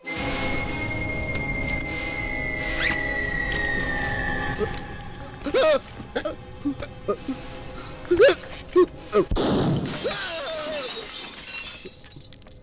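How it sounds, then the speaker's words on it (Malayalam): Glass shatters from a gunshot in a loud, bright crash near the end, after a humming tonal background and a run of sharp knocks and clatters. "വെടികൊണ്ട് ഗ്ലാസ് എല്ലാം പൊട്ടിയല്ലോ."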